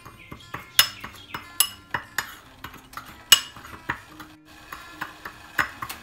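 Salt and spices being mixed in a large bowl for macaroni produce sharp, close clinks and taps of a spoon against the bowl, irregular but frequent, with quiet gaps between strikes.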